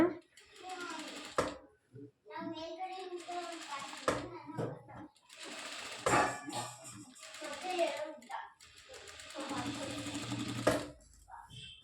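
A sewing machine stitches a work blouse in several short runs broken by pauses, close by, with a person talking over much of it.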